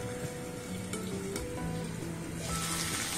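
Green chillies cook in a pan with a low, steady sizzle, a few soft clinks and scrapes, and brighter crackling rising toward the end.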